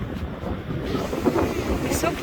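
Sea waves wash onto a beach in Busan under strong wind buffeting the microphone, a continuous rushing roar with a faint swell partway through.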